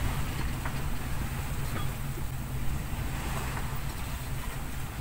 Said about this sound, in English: It's so good to be sailing in real trade winds again.